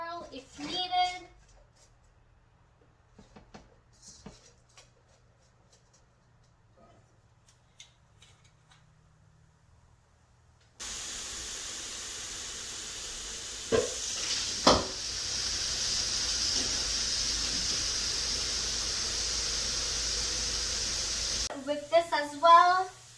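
Chicken fried rice sizzling in hot oil in a wok, a steady loud frying hiss that starts abruptly after a quiet stretch with faint handling sounds, with a voice talking briefly before and after.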